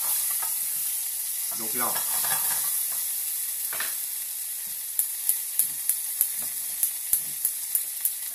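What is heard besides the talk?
piperade with salmon caramelizing and sizzling in a pan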